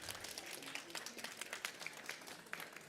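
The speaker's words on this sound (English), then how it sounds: "Please give a round of applause for this panel." An audience claps for a panel at a conference session on soil health and climate action. Individual hand claps stand out within a moderate, steady round of applause.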